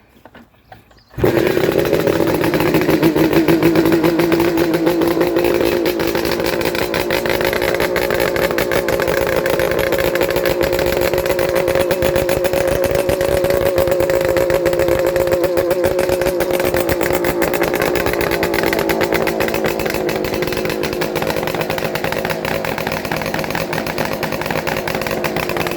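A Suzuki GT380 motorcycle catches after a kick start and runs loud and close, its engine burbling in a steady idle with a slight rise and fall in revs for over twenty seconds, with no talking.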